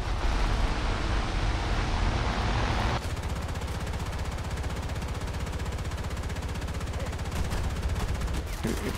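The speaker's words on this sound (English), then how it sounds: "Oh, I forgot I had machine guns." Machine gun fire in War Thunder, a German rank 1 vehicle battle: continuous dense gunfire, loud and close, roaring without break for the full stretch, with a brief harsher burst at the start.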